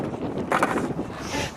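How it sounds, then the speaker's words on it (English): Wind buffets a microphone outdoors, a brief, rough, gusty rumble and roar that swells and fades over a second or two, with no voices. "The wind is amazing right now."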